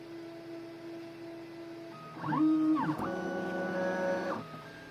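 A 3D printer printing purple PLA filament onto a T-shirt whirs steadily close by, its stepper motors sliding between sustained tones and then rising into a louder, rapidly shifting buzz of movement.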